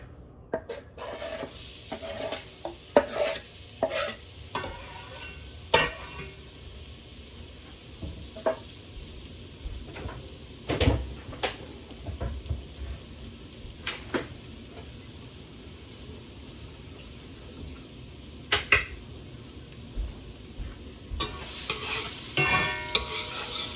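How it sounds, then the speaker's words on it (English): Chopped garlic frying in olive oil in a pan for Hawaiian-style garlic shrimp: a steady close sizzle runs throughout, broken by scattered utensil scrapes and clicks, with no voices. "I'm gonna put olive oil in the pan. And the garlic."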